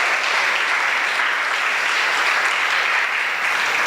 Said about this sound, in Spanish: Démosle un fuerte aplauso ahí a los muchachos de multimedia.